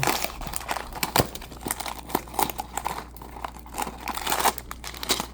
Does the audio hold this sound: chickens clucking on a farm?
no